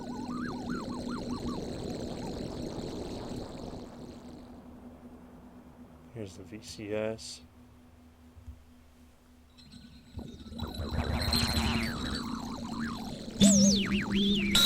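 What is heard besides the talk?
granular synthesis patch made in Kyma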